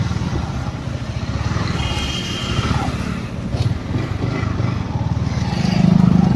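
A Yamaha R15 V4 motorcycle on a short ride in Jaipur gives a close, steady pulsing engine rumble that swells louder toward the end.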